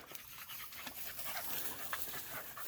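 A Laika dog pants rapidly to cool off in summer heat, a quick, breathy rhythm of short puffs, close and fairly soft, with no talking.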